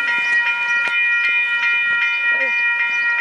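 Steady rumble and tonal hum of a train travelling toward Lisbon, heard from inside, continuous and fairly loud with faint clicks throughout.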